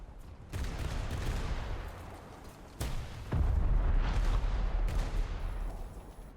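Booming gunfire and blasts burst out in loud bursts at intervals, each followed by a rumbling, noisy tail, in a War Thunder naval battle with torpedoes.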